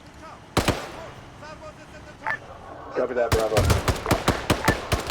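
Auto cannon rounds exploding in a military video game, a lone sharp blast followed later by a rapid string of booming impacts nearby, with a voice speaking over the battle noise.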